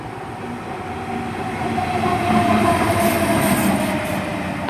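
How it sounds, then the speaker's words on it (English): A Colas Rail freight train rolls along platform 4 at Severn Tunnel Junction station, a steady near rumble of wagons with faint wheel squeal and clatter, growing slightly louder as it passes; no talk. "we've got a freight unit coming in on, or passing through, or whatever,"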